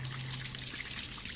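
Water trickles steadily from an SSF outdoor water filter, a soft continuous dribbling and splashing that stays close and even, with no voices.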